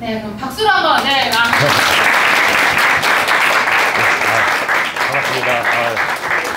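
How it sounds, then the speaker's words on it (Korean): Audience applause at an English and math academy information session, starting abruptly after a brief voice and staying loud and steady, with a voice briefly heard over the clapping. "그럼 박수로 한번"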